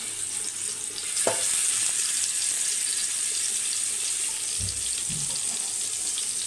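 Marinated fish pieces are laid one by one into hot oil on a griddle pan, giving a steady bright sizzle with a couple of soft thuds and clinks as pieces go down.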